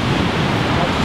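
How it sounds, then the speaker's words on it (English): Waves break on Flathead Lake in a dense, steady wash of rough surf, loud and close, with no clear gaps in the roar. "The waves coming up?"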